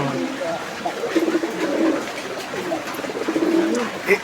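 Madrazi Golla pigeons coo in soft, repeated low rolling calls, several bursts close by over a steady background of other birds and faint voices.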